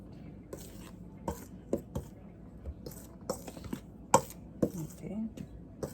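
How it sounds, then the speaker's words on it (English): A spoon scrapes and clinks against a bowl in scattered, irregular taps while mixing dry ingredients and spices for a Jamaican shredded-coconut cake, close and fairly distinct over a quiet room. "So I will use a clean dry spoon to mix those"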